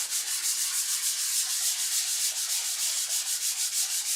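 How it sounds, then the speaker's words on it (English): Hand sanding wood with the grain on an apothecary chest being built in a box-making session, a steady rhythmic rasp of back-and-forth strokes, close and even throughout with no talking. "So make sure I'm sanding with the grain."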